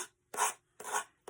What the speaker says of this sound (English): Just knock these edges off with a piece of sandpaper, with a sanding block